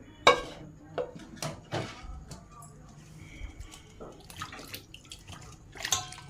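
Water sloshing and splashing as sweet potatoes are rinsed by hand, with irregular splashes and clunks close by.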